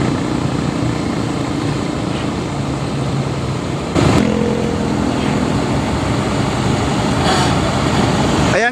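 Heavy equipment pouring cement at an esplanade construction site gives a loud, steady mechanical roar throughout, swelling slightly louder about halfway through, with no voices.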